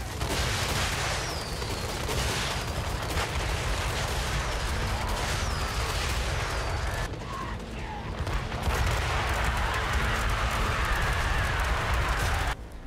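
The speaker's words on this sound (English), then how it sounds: "This unit here is firing pretty much an extremely hard-hitting rocket." Dwarf rocket unit firing in Total War: Warhammer 3, a dense battlefield din of bursting rocket blasts and crackling gunfire that runs continuously at high volume, with a brief lull near the end.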